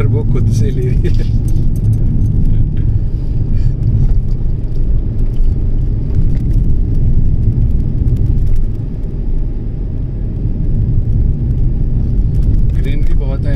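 A car cruises along a small highway with steady, loud road rumble and engine drone. The turbo engages on its own as it pulls, and someone talks over the noise.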